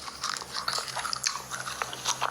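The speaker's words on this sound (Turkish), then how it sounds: "Bütün para Tomar'ını ısırdı" A man bites into a wad of paper banknotes, producing close, irregular crunching and crinkling bites at low volume with no talk.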